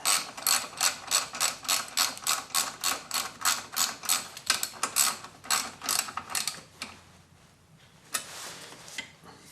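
A hand ratchet torques down a bolt on a new motorcycle battery, a fast run of close, crisp clicking strokes in steady rhythm, then slowing and fading to a few final clicks.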